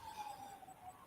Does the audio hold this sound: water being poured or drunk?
no